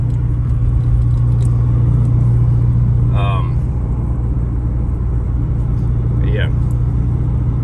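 A Subaru car engine runs steadily in fifth gear with a low, continuous drone and road rumble heard from inside the cabin, while a voice speaks briefly.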